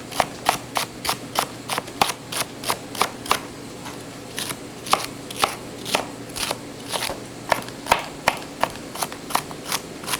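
Knife chopping through the ends of fennel on a cutting board, a quick steady run of crisp, close crunchy cuts repeating for about ten seconds, alone without talk.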